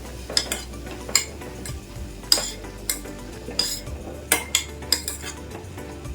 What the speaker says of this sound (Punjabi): ਸਾਰੇ ਮਸਾਲਿਆਂ ਨੂੰ ਚੰਗੀ ਤਰ੍ਹਾਂ ਰਲਾ ਦਵਾਂਗੇ